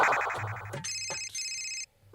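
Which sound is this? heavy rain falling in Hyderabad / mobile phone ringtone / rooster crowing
mobile phone ringtone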